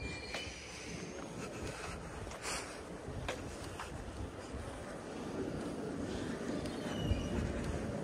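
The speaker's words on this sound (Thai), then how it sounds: "มีรถรางกำลังมาเดี๋ยวให้ชมรถรางนะคะ" Tram approaching on a city street, a broad rumbling roar of wheels on rails with faint metallic squeals building gradually louder, heard outdoors among wind and traffic noise.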